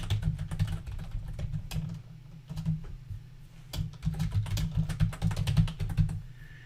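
Fingers type on a computer keyboard nearby, producing rapid irregular key clicks in bursts with a brief pause in the middle, over a low steady hum.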